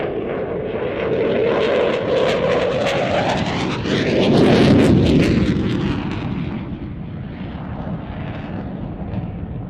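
An aerobatic jet on full backstick with afterburners lit as it exits a display, a loud roaring engine that swells to a peak and then fades slightly as it passes, with no voices.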